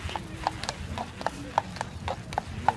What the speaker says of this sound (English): Here's the horsey in Central Park.